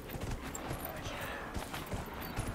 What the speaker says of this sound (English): Gallop! Gallop, you fool!